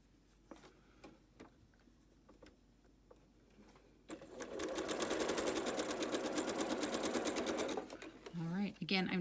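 A sewing machine stitches fabric for a quilt block, running in a fast steady rhythmic whir for several seconds after a few soft clicks, close and loud, with a voice coming in at the end.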